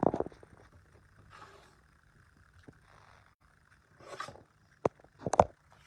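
A Tonic guillotine paper trimmer's blade swings through paper, giving short scraping slices and sharp clicks scattered across the moment, close and fairly quiet with pauses between cuts.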